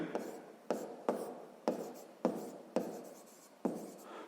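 A pen writes on paper while a sixth-grade maths exercise is being worked out, heard as a quiet, close, rhythmic series of scratchy strokes, about seven evenly spaced bursts.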